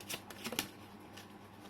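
Tarot cards being shuffled in a quiet room, a quick run of crisp riffling bursts over about a second, then trailing off into faint rustle; no talking.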